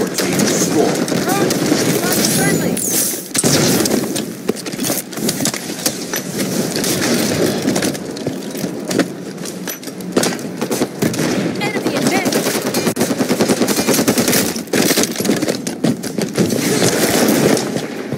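Rapid automatic gunfire and bursts of shooting fill a Halo 5 multiplayer match, dense and continuous throughout with explosions mixed in, while an announcer voice calls out game events over the chaos.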